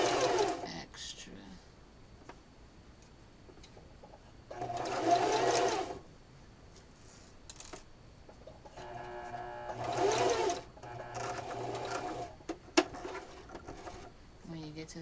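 A sewing machine stitches a small Valentine pillow in bursts of steady mechanical whirring, pausing between runs while a person speaks softly near the machine.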